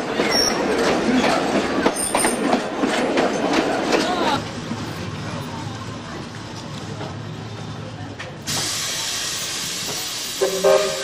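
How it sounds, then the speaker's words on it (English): A steam train rumbles along a zigzag railway with hissing steam and squealing wheels, a sharp burst of hiss rising near the end; voices murmur faintly in the background. "Next adventure is a trip on the steam train up and down this zigzag railway."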